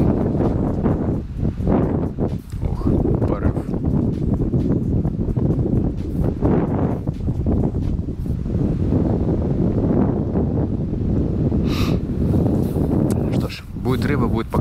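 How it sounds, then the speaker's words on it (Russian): Steady spring wind buffeting the microphone outdoors on the bank of the Moskva River while feeder fishing, a constant low roar with gusts, while someone talks over it. "Ветер раздуло. Не очень приятный."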